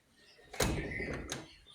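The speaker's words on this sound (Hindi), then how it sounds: "ये दरवाज़ा मैंने खोल दिया है" A house door clunks open with a solid thud in light rain, followed by a brief rattle as it swings, close and fairly loud.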